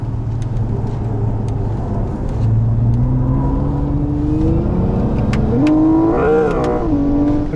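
Synthetic engine sound from a Hyundai Ioniq 6 N electric car on a track, a loud steady drone rising and falling in pitch like a revving combustion engine, climbing through virtual gear changes with sharp swells toward the end.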